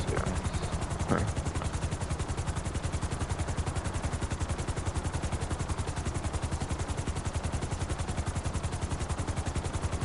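A helicopter in Grand Theft Auto Online chops along with a fast, steady rotor pulse held evenly throughout, a brief sharp burst near the start, no voices over it.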